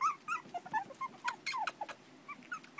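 Several small four-week-old puppies whimper and yip in high, squeaky bursts, with a low growl underneath, close and fairly quiet.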